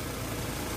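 A car engine idles steadily after a metal conditioner has been added to it, a smooth continuous low rumble heard close and alone.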